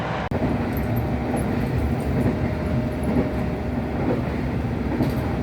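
Steady rumble of the Dharmawangsa passenger train arriving at Tegal station, loud and continuous, with faint clatter and a low hum throughout.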